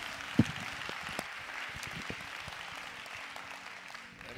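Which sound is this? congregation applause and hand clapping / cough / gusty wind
congregation applause and hand clapping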